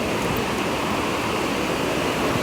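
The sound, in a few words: river flowing under a suspension bridge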